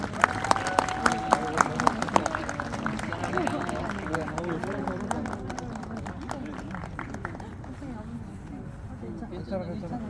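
Wedding guests applaud at a garden wedding venue, a dense crowd of claps running steadily at moderate volume under a voice, thinning slightly toward the end.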